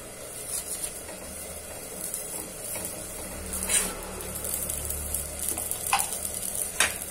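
Til-gul poli roasting on a hot pan with a thin coat of desi ghee gives a steady, close sizzle and crackle with a few sharper pops, and no voices.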